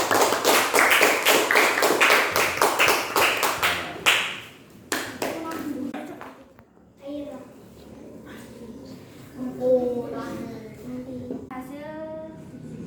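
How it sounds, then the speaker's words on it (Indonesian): Classmates in an Indonesian school lesson clap for a discussion group, a dense burst of hand claps for about four seconds that stops abruptly, followed by scattered voices and someone speaking. "Kasih tepuk tangannya"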